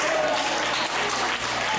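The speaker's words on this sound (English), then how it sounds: "I'm waiting for a clap." Congregation clapping at a church revival service, a dense, continuous patter of many hands, fairly loud, with voices faintly mixed in.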